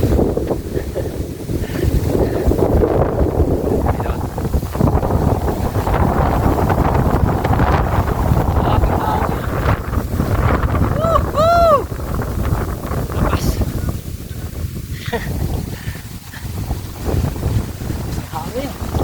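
Strong wind at the summit of Mt. Balinsayaw, buffeting the microphone in a continuous loud roar with gusting swells, with a brief voice sound partway through.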